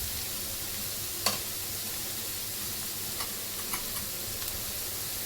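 Onions roasting in a pan for a quick Vidarbha-style onion chutney, a steady soft sizzle and hiss close by, with a few light scraping clicks from stirring and no talk.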